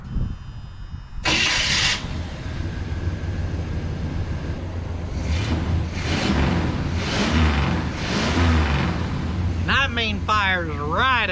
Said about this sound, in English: You hop in there and she fires right up.